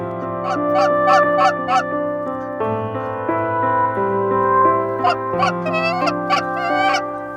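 Geese honking during a goose hunt in Ontario, repeated loud close calls in rapid bursts at the start and again near the end, over a steady droning tone.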